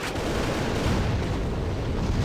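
Grenade blast in the tank-push mode of the shooter game AVA, a sustained rumbling boom with no clear single onset, filling the whole short moment at steady loudness.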